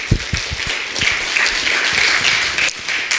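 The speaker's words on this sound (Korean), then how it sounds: "우리 권사님 외에 다른 분들 박수 한번 치십시다" A congregation claps together during a Friday church worship service, a dense, steady burst of applause that carries evenly through the room for a few seconds.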